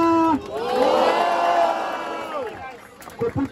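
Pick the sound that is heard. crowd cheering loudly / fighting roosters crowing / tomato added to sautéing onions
crowd cheering loudly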